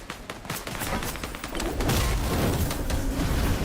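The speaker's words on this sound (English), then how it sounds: "There's gunfire behind us." Gunfire in a battle royale video game battle, a dense fusillade of overlapping shots and booms that swells and holds at a steady, fairly loud level.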